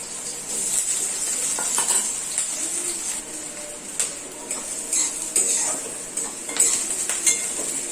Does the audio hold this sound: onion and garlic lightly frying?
yes